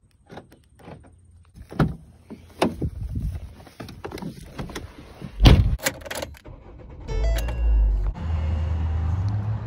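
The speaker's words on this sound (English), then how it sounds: "Driving the Rally Focus right here." A Ford Focus rally car heard up close: a series of sharp clunks and clicks from doors and keys, a solid door slam, a whirring electric window, then the engine starting and a steady driving drone.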